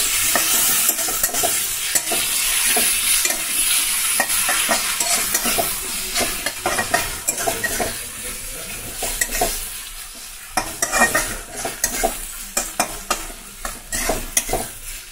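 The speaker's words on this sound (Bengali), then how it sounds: "তো দেখো লঙ্কা পেঁয়াজ দেওয়া হয়ে গেছে, তো ভালো করে ভাজা করে নেব" Chopped onion and green chili frying in a pan over low flame, a continuous sizzle with repeated scraping stirs of a spatula against the pan, growing more rhythmic toward the end; no talking.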